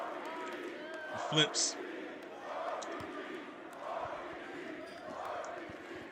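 Wrestling arena crowd cheering for RVD at a Strangle-Mania six-man super tag match: a massive crowd's steady roar fills the room under ongoing commentary, with one brief sharp swell early on.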